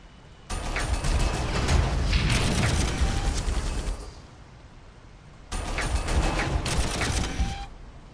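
Shadowsword tank cannon in Warhammer 40k Armageddon pounding orcs, two long roaring barrages of heavy gunfire, each several seconds of dense booming blasts and rumble, separated by a brief lull, loud and close with no talking.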